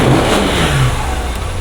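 A Lifan KPT 150 motorcycle fitted with a BMC air filter revs loudly and close up, a steady mid-pitched engine roar that eases off slightly toward the end, with no talk.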